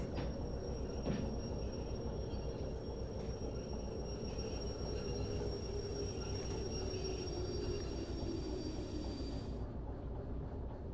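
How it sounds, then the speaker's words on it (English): A train in the game Derail Valley rolls along with its brakes applied, making a steady, dense rumble with a faint high squeal that cuts off near the end. "lapping some brakes on."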